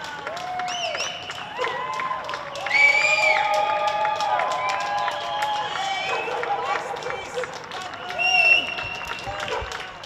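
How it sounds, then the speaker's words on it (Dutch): Applause and cheering from a crowd for nurses' coronavirus care, with shouts and excited voices on top, steady throughout with a couple of louder swells. "U heeft applaus net gehoord."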